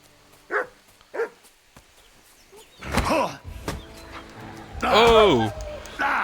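A dog in the video game Kingdom Come Deliverance 2 barks and snarls in short bursts, mixed with thumps and scuffling, while a player talks over the action.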